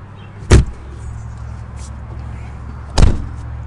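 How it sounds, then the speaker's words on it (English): A 2009 Dodge Caliber's trunk on a dealer lot gives two sharp mechanical clunks about two and a half seconds apart, close and fairly loud over a low steady hum. "Go ahead and open up the trunk."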